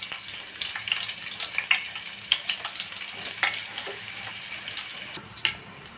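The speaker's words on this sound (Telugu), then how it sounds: "కర్రీకి కూడా ఆయిల్ హీట్ ఎక్కింది కాబట్టి ఆనియన్స్ అనేవి వేసేసుకున్నామండి." Onions sizzling in hot oil for a curry, a continuous bright hiss with small crackles and pops, close and steady with no talking.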